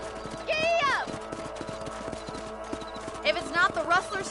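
Horse hooves clip-clop at a gallop in a video game, a rapid steady drumming across the whole stretch, with a whinny near the start and another near the end.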